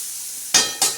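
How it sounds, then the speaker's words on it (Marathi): Green chilies, garlic and cumin chutney tempering for ambadi (roselle) greens sizzles steadily in a pan, broken by two sharp scraping stirs near the end. "अशी चांगली खरपूस अशी हलवायची."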